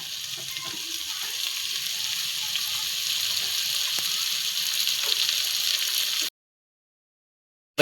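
Cooked mutton meets sautéed masala in a hot pan for mutton kulambu, giving a steady, close sizzle that runs unbroken for about six seconds and then cuts to silence.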